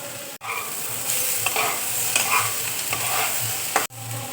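Onion dropped into a hot pan with soy sauce and salt for a quick breakfast dish, frying with a steady close sizzle and stirring scrapes throughout, a brief hush near the start and again near the end.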